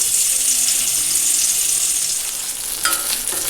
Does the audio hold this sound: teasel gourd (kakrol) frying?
yes